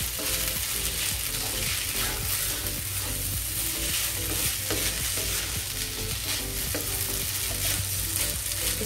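Spaghetti frying in a pan for Singaporean rice, a steady, loud sizzle with continual stirring and scraping clatter throughout, no voices.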